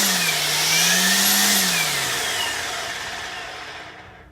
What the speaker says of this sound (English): let's give our trimmer a test. And I'm going to switch it to the number 2 speed here